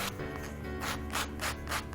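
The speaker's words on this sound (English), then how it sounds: "Here we have a sanding block, and that's just going to help me take the edge off" Rhythmic sanding strokes as a sanding block smooths the edges of small cake dowels, a gritty rubbing sound repeating in quick bursts, close up with no talking.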